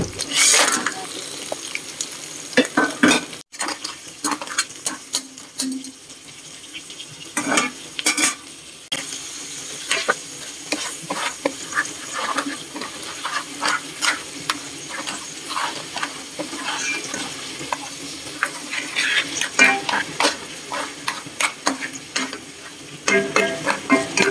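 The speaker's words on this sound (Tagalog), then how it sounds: "ilagay na natin itong mga alimango" Crabs frying in a pan while being stirred, a steady crackle broken by frequent sharp clatters and scrapes of a utensil, fairly loud and close, with a voice speaking briefly now and then.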